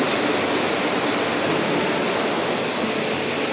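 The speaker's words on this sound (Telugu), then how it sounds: "వాన అయితే ఒక రేంజ్లో పడింది. ఇప్పుడు కొంచెం తగ్గింది." Steady heavy rain falls around a houseboat in Alleppey, Kerala, a dense continuous hiss that stays even and close throughout, with no voices.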